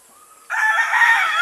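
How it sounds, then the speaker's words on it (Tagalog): Young chicks, about one week old, peeping at a chicken farm, a sudden burst of loud, high, overlapping cheeping that starts after a brief near-silence and carries on to the end. "So yung mga sisiw na i-vaccine natin ngayon, nasa 1 week old."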